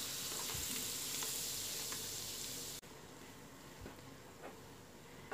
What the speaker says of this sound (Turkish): 2 yemek kaşığı tereyağımı tencereme alıyorum.